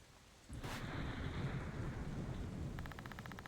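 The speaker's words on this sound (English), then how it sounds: "The sound of the storm surrounds you." A video-game thunderstorm: a sudden loud thunder rumble breaks in and rolls on over steady, dense rain, with no voices.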